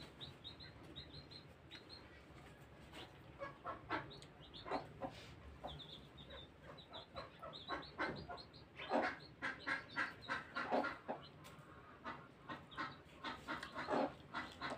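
A hen clucking and squawking inside a room of a village house, near and fairly loud in repeated bursts over low background noise, with faint chirps of other birds.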